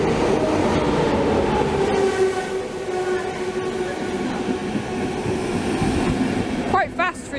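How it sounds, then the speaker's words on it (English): A sleeper train rumbles steadily past at close range, a dense continuous roar of wheels and carriages, with a brief rattle near the end. "Quite fast for a sleeper train."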